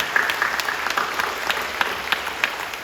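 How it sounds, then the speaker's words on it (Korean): A church congregation claps during a Sunday worship service, a moderate wash of applause with a few sharper individual claps standing out near the listener. "박수로 격려해 주시고"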